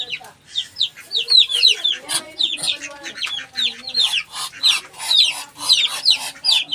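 A duck attacks a chicken: chickens squawk and cluck frantically in a noisy flurry of bird calls, mixed with scuffling, close and continuous.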